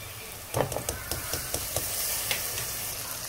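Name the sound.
ginger garlic paste frying with onions in a pan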